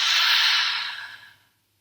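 A single long breath pushed out through the mouth during a guided relaxation, a soft breathy whoosh that starts strong and fades away over about a second and a half, with no talking.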